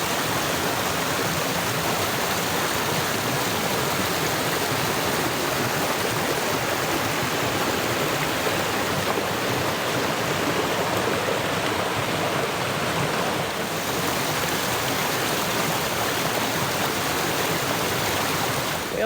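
Steady broadband rush of a creek flowing near a waterfall on an off-grid property, continuous and fairly loud, with no voices over it.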